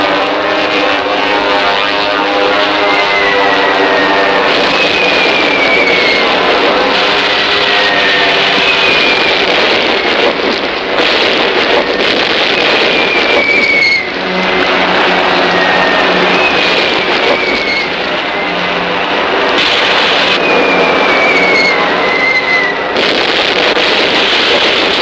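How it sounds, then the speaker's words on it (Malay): Japanese warplanes bombing a city in a wartime film scene: loud, dense roar of aircraft engines mixed with repeated explosions and descending whistles of falling bombs, sustained throughout without speech. "pasukan kapal-kapal terbang Jepun telah mengebom bandar Singapura."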